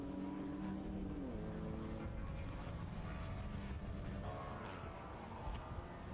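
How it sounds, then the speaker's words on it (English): A Honda race car in an endurance club race at Snetterton comes down the track toward the listener and roars past, its engine loud and steady over continuous circuit noise with no talk. "There's the Honda coming down towards us at Brumble. That's very noisy when it comes past here."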